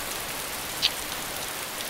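Dense, even rain patters continuously across a surface in DayZ, a steady wash of hiss with one brief sharper drip partway through and no voices.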